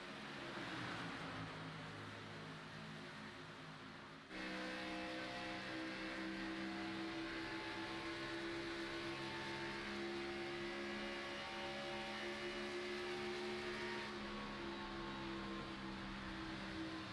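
Stock race cars roar past the start-finish line at Charlotte, a steady, loud, sustained engine drone with layered harmonic whine and a brief drop in intensity before the pack sweeps through, no voices.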